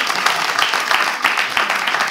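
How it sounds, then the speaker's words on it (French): An audience applauding, a short burst of dense, brisk clapping at moderate distance that carries on steadily without pause. "Applaudissez pour ça."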